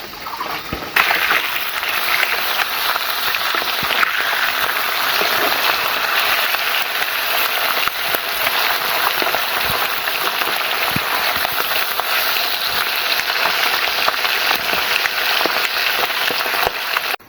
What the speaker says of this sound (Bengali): মাছগুলো দু সাইড খুব ভালো করে ভেজে নিয়েছি।